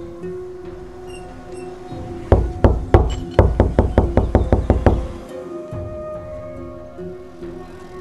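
Door stuck shut being knocked on from inside, a quick run of about a dozen sharp, loud raps in an uneven rhythm, followed by quieter room noise.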